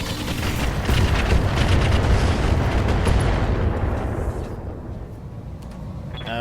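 A mech weapon fires in the Roguetech video game, a loud, dense blast and impact explosion that booms continuously for several seconds before slowly decaying into a rumbling tail.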